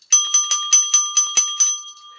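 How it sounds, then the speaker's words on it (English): A bright bell sound effect rings in a quick rhythmic series of about eight evenly spaced metallic dings, loud and close, each with a short ringing decay. "Now I'm going to show you the happy bell right here."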